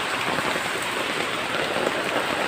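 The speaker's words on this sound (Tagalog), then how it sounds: "Maulan talaga guys." Heavy rain pours down steadily, a dense close hiss of drops drumming on surfaces with no pauses and no voices.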